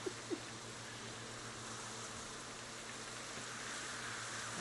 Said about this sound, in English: Oh, it's raining. Get the poncho out.